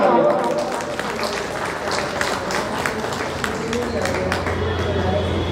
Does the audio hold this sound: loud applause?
yes